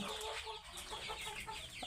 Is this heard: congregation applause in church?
no